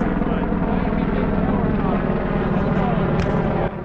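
A helicopter roars close overhead above a skeet shooting range, its steady rotor thrum and engine drone loud and continuous for several seconds, easing slightly at the end.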